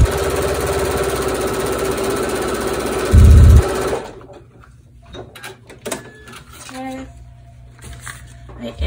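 Sewing machine stitching quilt block fabric for an Evening Star quilt block: a loud, close, steady whirring run for about four seconds that stops abruptly, followed by quieter scattered handling noises.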